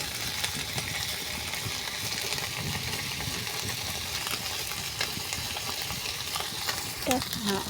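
Fish sizzle lightly in oil in a pan, a steady close crackle with small pops and occasional stirring scrapes, continuing without a break.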